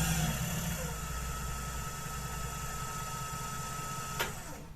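Axminster AW205WL mini lathe running steadily in reverse, a constant even motor whine and hum with no variation, close and alone, with a brief click near the end.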